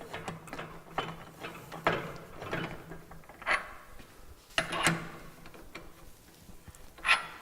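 A hand tool tightens the screws on a drum mixer, producing a series of close, dry ratcheting clicks and small metallic knocks in uneven bursts, with no talking over them.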